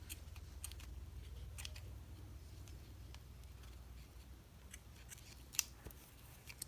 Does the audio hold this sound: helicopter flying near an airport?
no